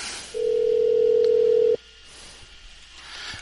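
A single steady ringback tone sounds for over a second on a phone line, then stops, leaving faint line hiss.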